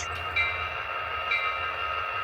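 A Walthers SD70 Max model locomotive in white-roofed CSX livery hums steadily along a model railroad layout, a constant motor drone with faint wheel noise, no voices.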